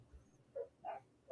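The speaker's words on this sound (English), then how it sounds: "The dogs." Dogs barking outdoors, heard as three short, faint yelps spaced across the moment, distant and muffled, with no talking over them.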